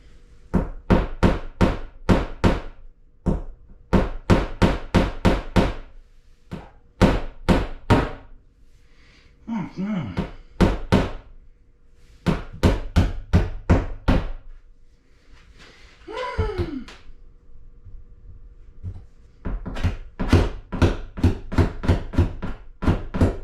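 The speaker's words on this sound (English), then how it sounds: "So all this I'm having to use a hammer." Paneling nails are driven by hand with a hammer in quick bursts of loud, close, sharp strikes, with short pauses between nails and a couple of brief voiced interjections in the gaps.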